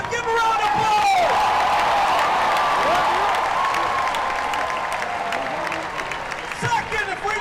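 Large outdoor crowd at a Baylor Bears national championship parade bursts into loud, sustained applause with cheers and whoops, a dense roar that swells and holds, with voices carrying over it.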